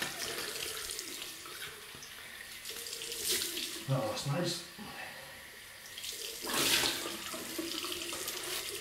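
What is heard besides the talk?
cold water running from a tap into a sink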